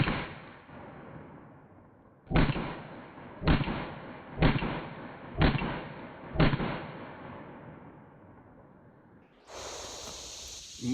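Glock 43 pistol fired at a range, a short string of five sharp, evenly spaced shots, each with a decaying tail, loud and close, followed by a steady hiss.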